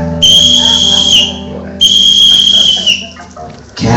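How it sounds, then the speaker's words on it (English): Two long, shrill blasts on a whistle sound close and loud over a musical backing. Each blast lasts about a second, with a short gap between them. "Can't you hear Snowden's whistle blowing?"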